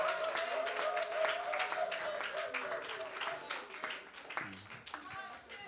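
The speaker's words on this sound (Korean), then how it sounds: "크게 박수로 환영하겠습니다" An audience at a Korean church conference applauds to welcome high school students, a steady, fairly loud round of clapping with a voice speaking over it and a few sustained tones underneath.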